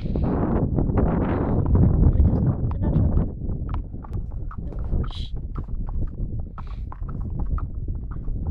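Hooves of a horse clip-clop steadily on a yard or path in Iceland, with a rider coming in; the close, rhythmic footfalls run throughout under light wind noise, and a second rider's horse moves nearby.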